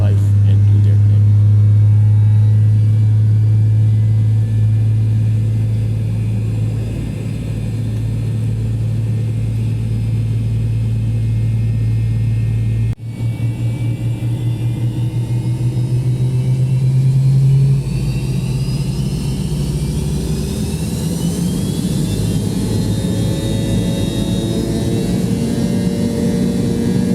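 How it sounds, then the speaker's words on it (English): Pratt & Whitney JT8D jet engines on a Delta MD-88 spool up and run, a loud steady low rumble with rising whine and a deep drone that shifts partway through. "enjoy the sights and sounds of these Pratt & Whitney JT8Bs as they come to life and do their thing"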